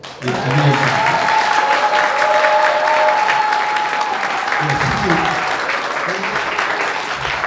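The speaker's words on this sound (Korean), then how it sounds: "뜨거운 박수로" An audience at a forum lecture in a hall claps warmly and loudly throughout, a sustained dense applause with a faint steady tone and some voices murmuring underneath.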